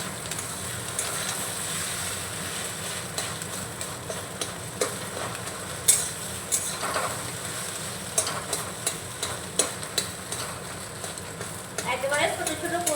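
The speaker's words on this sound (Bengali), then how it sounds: "ডিমটাকে এইভাবে নাড়াচাড়া করে ভুজিয়া তৈরি করে নেব।" Egg bhujia being stirred in a pan with a spatula, giving a run of scraping, tapping strokes over a steady low sizzle, close by and moderately loud, with no talk.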